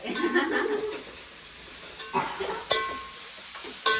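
Mutton frying in a pan at a home kitchen, a steady close sizzle with scattered stirring scrapes and brief louder bursts, while faint voices murmur in the background.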